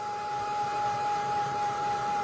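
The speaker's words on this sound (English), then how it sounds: "So let's get the hairdryer on." A hairdryer blowing at steady strength for craft work, giving an even, continuous whooshing hiss with a thin whine and no change in level.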